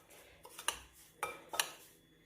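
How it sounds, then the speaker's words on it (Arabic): Olive oil being worked into semolina in a bowl, heard as a few sharp clinks and scrapes of a utensil against the dish in uneven bursts, close and fairly quiet, with no talking. "وغندخل دابا هاد الزيت غندخلها في هاد السميده مزيان"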